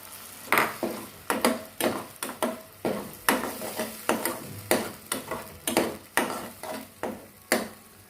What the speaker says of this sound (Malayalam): ഈ ഗ്രേവി ഒരു 2 നിമിഷം ഫ്രൈ ചെയ്യാം.